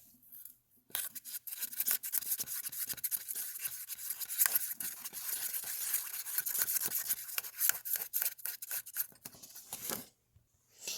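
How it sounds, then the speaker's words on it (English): Paint brush swirling white paint into orange paint, a steady scratchy bristle rubbing that runs continuously and close, with quick brushy strokes and a short pause near the end. "So I'm going to put some paint in here, some white paint in here, and mix it up."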